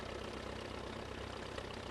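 A 1943 wartime Fordson tractor engine runs steadily at idle, a low, even chugging with a faint knock, heard alone at moderate distance.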